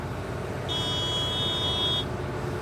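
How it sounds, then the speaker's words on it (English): A grain cart separator gives one steady, thin electronic beep that holds for about a second and a half over a low, rumbling engine drone in farm machinery. "Mom got out with her separator still rolling, so it beeps at you."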